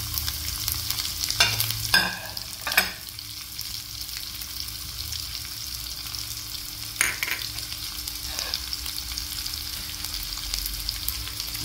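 Spices such as cumin and coriander crackle and sizzle in hot oil for sambhar, with a steady frying hiss and a few sharp pops and stirring clicks near the start and middle.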